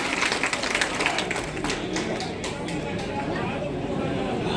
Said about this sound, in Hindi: जोरदार तालियां इस बात की